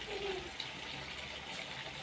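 A steady gush of water pours continuously into a fish curry pan, fairly close, with a faint hollow splashing underneath and no voices.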